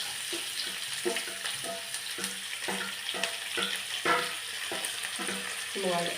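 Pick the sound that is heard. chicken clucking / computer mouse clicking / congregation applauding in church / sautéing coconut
sautéing coconut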